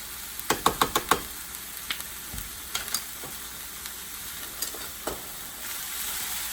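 Minced garlic and ginger sizzle in a hot pan, with a steady broadband frying hiss and several quick clicks of a utensil stirring early on, then fainter taps as the cooking settles; no voices.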